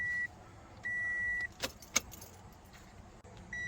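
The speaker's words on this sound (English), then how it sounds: "So you're gonna turn the key two clicks forward." A key being turned in the ignition of a 2013 Toyota RAV4, heard as a couple of faint, close clicks between steady dashboard chimes inside the car.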